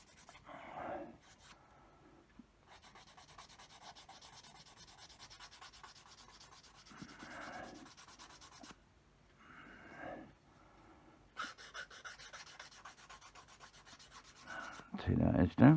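Intermittent scraping and rubbing of a sanding stick against a plastic Revell model kit part, coming in several bursts separated by quiet pauses, close up.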